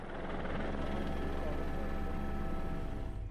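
A helicopter flying over snowy polar-bear country, its engine and rotor droning loud and steady from start to finish with a low, even pulse.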